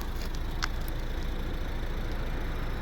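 Steady low rumble of a 2010 Volvo V50 R-Design 1.6 D2 diesel engine idling, heard up close at the exhaust, constant and unbroken throughout.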